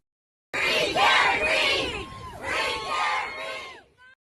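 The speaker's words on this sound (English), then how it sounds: "outside the courtroom, protests erupted." A protest crowd outside a Massachusetts courtroom shouts and chants in rhythmic, loud bursts of many voices together, rising and falling across a few seconds before cutting off.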